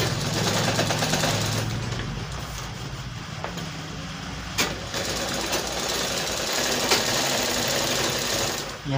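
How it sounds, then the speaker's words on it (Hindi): Sewing machine stitching the pocket of a sherwani with piping design: a loud, steady, fast mechanical whirr and needle clatter running nearly nonstop, with brief slowdowns and a few sharp clicks. "तो हम इससे एक पॉइंट अंदर ही सिलाई मारेंगे।"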